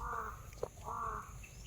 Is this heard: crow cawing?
yes